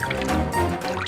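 Water is splashed onto a person's face, a short, close wet slosh and dribble lasting about a second, with no talking.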